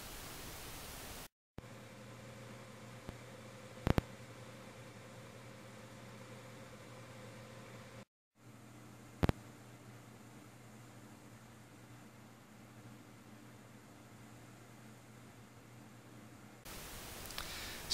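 Steady broadband whoosh of R9 290 graphics card fans under a Valley benchmark load, two continuous stretches separated by a brief gap, with faint hum and a few tiny clicks.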